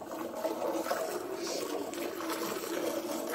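Cow's milk streaming into a bucket during hand-milking, a continuous soft hiss and splash of liquid that stays steady and close throughout.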